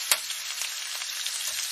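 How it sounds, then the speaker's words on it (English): Ground meat sizzles and browns in a hot pan, a steady close crackling hiss with a few light stirring knocks and no talking. "we want to let that meat brown up a little bit"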